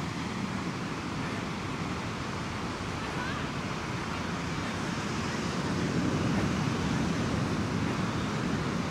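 Ocean waves at Venice Beach wash in a continuous broadband roar, steady and fairly loud with wind noise on the microphone, swelling slightly near the end, no clear talk.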